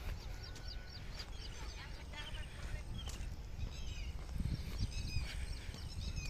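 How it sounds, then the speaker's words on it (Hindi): A koel calls on a morning nature walk, its whistled notes repeating among scattered chirps from other birds over a steady, noisy outdoor background. "कोयल की आवाज़ सुनो"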